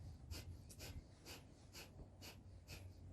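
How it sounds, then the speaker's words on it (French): Breath of fire, rapid rhythmic yoga breathing in a Kundalini yoga class: about seven quick, forceful nasal exhalations evenly paced in a few seconds, close and fairly faint, with no speech. "Et là, vous commencez une respiration de feu."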